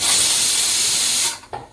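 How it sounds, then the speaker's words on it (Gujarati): Pressure cooker whistle venting steam in a home kitchen while pav bhaji cooks, a loud continuous hissing spray that cuts off abruptly, followed by a brief faint knock. "કુકર સીટી કરી રહ્યું છે"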